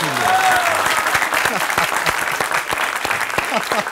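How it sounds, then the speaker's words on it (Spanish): Steady applause from an audience, dense clapping filling the whole stretch with a few voices mixed in. "Un aplauso para Marta"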